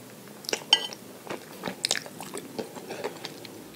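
Close, wet chewing and slurping of soft instant ramen noodles, with irregular crunchy bites and squishy mouth sounds, no talking.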